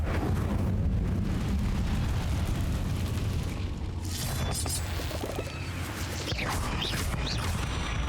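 Incendio fire spell cast in Hogwarts Legacy during a spell-heavy fight: a dense, roaring blast with crackling bursts over a constant rumble, loud and close throughout.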